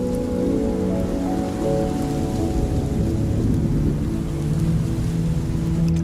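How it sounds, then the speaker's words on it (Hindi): Heavy rain pours down in a dense, unbroken roar that stays loud and steady from start to finish, with no voices over it. "बारिश तो रुक गई"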